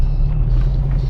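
A Ford Mustang Shelby GT500 V8 rumbles nearby with a loud, steady, deep low-end throb, heard briefly on its own.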